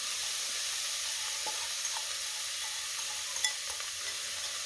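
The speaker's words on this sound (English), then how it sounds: "I'm going to add the cabbage and the onion." Cabbage and onion sauté in olive oil in a pan, a steady, faint hissing sizzle throughout with one small utensil tap near the end.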